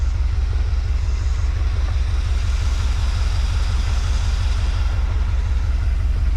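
An old 1981–82 Dodge one-ton truck engine idles steadily on a farm, a loud, even low rumble with a constant throb running unbroken throughout.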